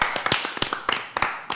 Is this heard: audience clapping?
yes